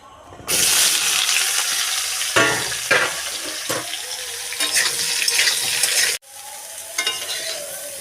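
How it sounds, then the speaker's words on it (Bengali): Jackfruit pieces fry in oil in a wok with a loud, close crackling sizzle and spatula strokes, cutting off abruptly near the end before a softer sizzle resumes. "কড়াইয়ে তেল দিয়ে দেব দিয়ে কাঁঠালগুলোকে ভালো করে ভেজে নেব"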